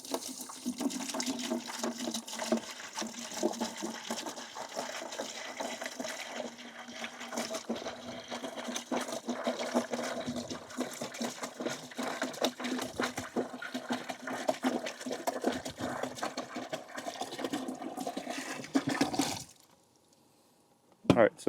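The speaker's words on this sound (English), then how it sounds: "So I'm going to put a gallon of vinegar in and then add a bit of water to" A gallon of 6% cleaning vinegar glugs and splashes steadily into a container for descaling a tankless water heater, a continuous pour lasting close to twenty seconds before it stops abruptly.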